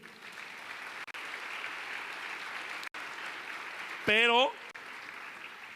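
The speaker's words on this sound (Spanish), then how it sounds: "Dale un aplauso a Dios." A church congregation applauds during a sermon, a steady mass of clapping filling the space, moderately loud, with a brief spoken word from a man rising over it near the end.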